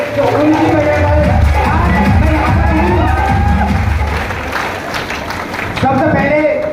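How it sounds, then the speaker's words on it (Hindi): A seminar celebration crowd claps and cheers loudly, with whoops and shouts mixed into steady applause and voices talking over it throughout before the noise dips and surges again near the end. "एक बार मेरे माता पिता के लिए जोरदार तालियां होनी चाहिए"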